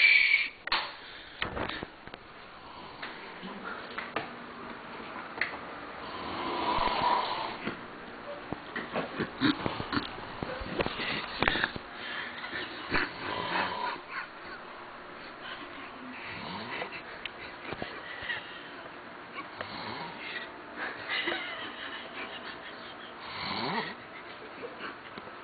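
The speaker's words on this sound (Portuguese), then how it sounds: "vamos filmar ele roncando" A sleeping man snores in slow, quiet, rasping breaths in an indoor room at night, with occasional faint rustles and stifled sounds from people nearby.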